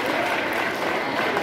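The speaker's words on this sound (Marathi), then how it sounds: "सर्वांनी जोरदार या ठिकाणी टाळ्या वाजवायच्या आहे" An audience at a speech competition prize announcement claps loudly and densely in a short, unbroken burst, with many hands together and a crowd murmur underneath.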